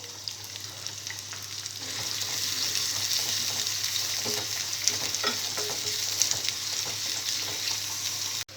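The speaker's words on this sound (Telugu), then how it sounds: "జీలకర్ర కొద్దిగా ఫ్రై అయిన తర్వాత ఇందులో ఉల్లిపాయ ముక్కలు, కరివేపాకు వేసుకోవాలి." Onion pieces and curry leaves fry in hot oil with cumin seeds, a loud, continuous close-up sizzle with stirring that swells after the first couple of seconds.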